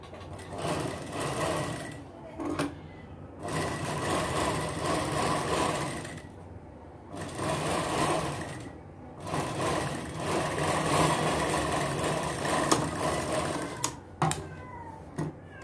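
A sewing machine stitches the lining of a baby girl's three-layer frock in several bursts of rapid needle clatter, separated by short pauses where the machine stops before starting again.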